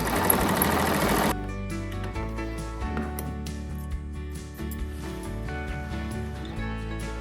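A sewing machine zigzag-stitches a sleeve seam on a dress, running in a fast, steady mechanical chatter up close with small shifts in pace as the fabric is guided.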